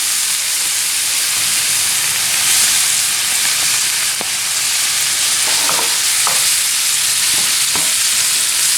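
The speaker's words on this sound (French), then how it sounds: "Et je laisse mes crevettes revenir à feu moyen jusqu'à l'obtention d'une bonne sauce onctueuse et crémeuse." Shrimp simmering in a creamy spiced sauce over medium heat gives a steady, loud hissing sizzle throughout, broken by a few sharp clicks and light utensil touches. No one speaks.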